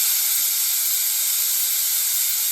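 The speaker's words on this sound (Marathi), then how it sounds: "एकीकडे कुकरच्या शिट्ट्या सुद्धा होत आहेत" A pressure cooker on a home kitchen stove releases its whistle as a sustained, loud, high steam hiss that holds steady throughout without pause or voices.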